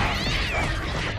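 A video game cat from the Opila bird horror game gives a single loud, drawn-out meow with a wavering, whiny pitch, close and alone.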